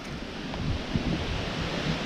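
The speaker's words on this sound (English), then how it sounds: "Unfortunately, it's very windy out right now." Strong wind blowing outdoors beside open water, a steady broadband rush with low-end buffeting against the microphone, constant throughout with no voices.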